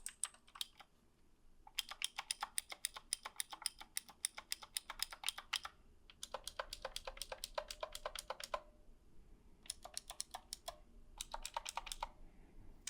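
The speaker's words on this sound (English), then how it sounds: "I should mention I have the Otamu Blue edition so that it's clicky, and of course hopefully you can hear that." Clicky Outemu Blue switches on a Redragon K623 hot-swappable mechanical keyboard, typed in fast, crisp bursts of sharp clicks separated by short pauses, close and clear with no talking.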